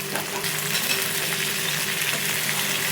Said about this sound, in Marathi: मस्त आता भेंडी टाकते आणि छानपैकी हलवून घेते.